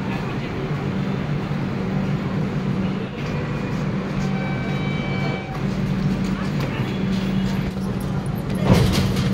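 A superfast express train pulls into Srikakulam Road station, its steady low rumble and rolling clatter filling the air with a brief louder burst near the end, while voices murmur faintly underneath.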